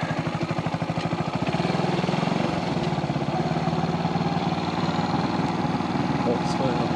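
A Brixton 250 motorcycle being ridden on a tour near Bühlertal, its steady mid-pitched engine drone running continuously up close alongside wind rush, with no talking over it.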